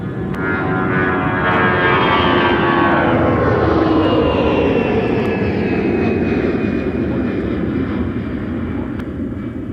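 An Airbus A330neo jet airliner departs Minneapolis–St. Paul airport, its loud, steady engine roar filling the scene throughout with a slowly shifting whine.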